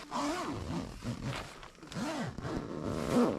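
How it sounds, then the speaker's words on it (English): A tent zipper is pulled in several short, rasping strokes, some rising and falling in pitch, close by and fairly loud. "what do you think about the zippers on this one?"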